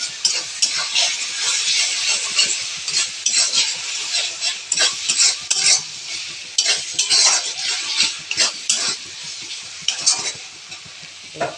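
Sour yogurt with spices being stir-fried in a pan for homemade chicken kurma: continuous close sizzling with frequent metal spoon scrapes and clinks against the pot, rhythmic and busy, no voices.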